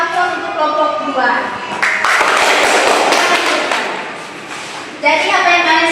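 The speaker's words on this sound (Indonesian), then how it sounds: "berikan aplaus untuk kelompok dua" Classroom applause for a student group that has just presented a lesson on environmental pollution: a burst of clapping swells for a few seconds and then fades, with talk before and after it.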